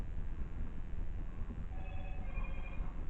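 A phone notification chime rings faintly from a nearby phone, a few light tonal pings rising out of steady background noise in the second half.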